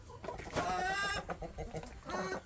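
Rooster on a small woodland homestead clucking in a run of harmonic calls, loudest in the middle and again near the end, close by with other farm fowl around.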